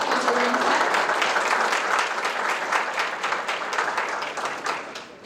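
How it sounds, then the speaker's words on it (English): An audience at a secondary school geography bee gives a sustained round of applause, dense, even clapping from a sizeable crowd that tapers slightly toward the end. "let's give them a round of applause"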